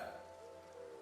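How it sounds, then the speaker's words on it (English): Rain falls steadily in the video game Infinity Nikki, a soft, even hiss of drops on surfaces with no talk over it. "This cursed rain."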